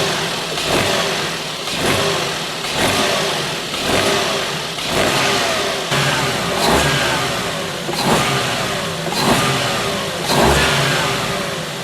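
A small budget track car engine, freshly fitted with its first modifications, runs steadily and is revved repeatedly in rhythmic, evenly spaced pulses, loud and close with no talk over it.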